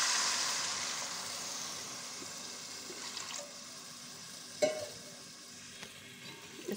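Milk poured into vermicelli roasted in desi ghee over high heat, starting with a loud hiss and sizzle that fades to a soft bubbling with a few small clinks, close and with no talking.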